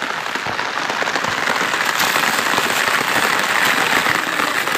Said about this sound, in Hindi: देख सकते हो कैसा बारिश हो रहा है